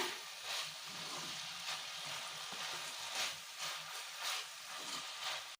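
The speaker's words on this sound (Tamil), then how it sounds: "தேங்காய் போட்டு 1 நிமிஷம் நல்லா வதக்கியாச்சு" Grated coconut sautés in a pan for a Chettinad country chicken curry, a steady close sizzle and crackle broken by soft rhythmic scrapes of stirring, fairly quiet throughout.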